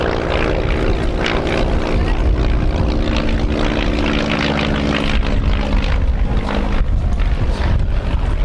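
A North American Navion propeller plane flies overhead at an airshow at Little Gransden Airfield, its piston engine a loud, steady, even drone with the throb of the propeller, holding strong throughout.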